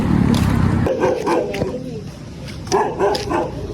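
A dog barks a few times nearby on a dark roadside walk to McDonald's in Tanza, the yips and woofs short and sharp, mixed in among people talking.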